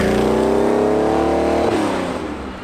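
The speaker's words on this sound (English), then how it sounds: "because it's a carburetted car, you shouldn't fear having to rev the engine" A carburetted Ferrari 512BB engine revs hard and close, its pitch climbing then easing off as the revs drop, loud and steady throughout with no voices.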